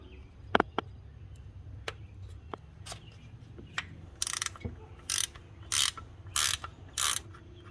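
A 1/2 inch ratchet clicks as it works a speedometer gear fastener loose on a Jeep XJ, with short spaced clicks followed by five longer, louder ratcheting bursts in a steady rhythm, close up and without talk.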